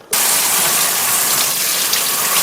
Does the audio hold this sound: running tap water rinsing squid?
yes